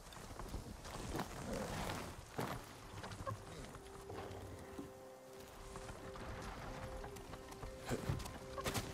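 Horses galloping in the video game Ghost of Tsushima, with steady hoofbeats pounding close by amid broadband outdoor noise and a faint sustained tone in the background, no voices present.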